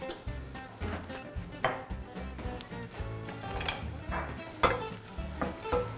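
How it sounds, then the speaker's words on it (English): Zucchini and squash with fresh basil sizzle steadily in a hot pan, a close crackling fry broken by frequent scraping and stirring strokes, with no talking. "See, it's already sizzling."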